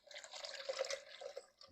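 Liquid poured into a large pan of broccoli cheddar soup that is already boiling, a steady splashing pour lasting under two seconds, fairly faint and close, with no talking.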